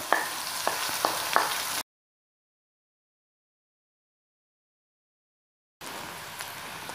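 Chopped onion frying in hot oil makes a steady hiss, broken by a few light clicks of stirring, then a long stretch of complete silence before the sizzle returns.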